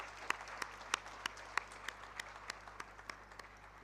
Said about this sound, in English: I would plead with you to give her a resounding round of applause this morning.